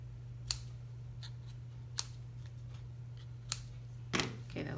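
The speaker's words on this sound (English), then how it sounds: "let me just trim this down." Scissors snip through card stock in a few sharp, isolated cuts spaced about a second or more apart, heard close over a steady low electrical hum while someone makes a stamped plant-themed greeting card.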